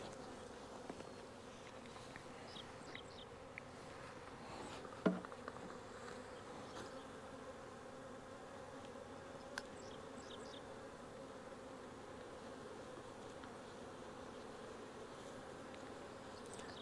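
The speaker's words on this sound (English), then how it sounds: "they're packed full of bees" A steady low hum of many honeybees buzzing close by around a hive, continuous and even, with a few brief clicks and taps along the way.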